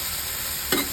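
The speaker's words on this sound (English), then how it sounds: "it's starting to boil a little bit like this" Lamb shawarma sizzling on a hot Masterbuilt Gravity 800 grill, a steady close frying hiss with a short sharper crackle near the end.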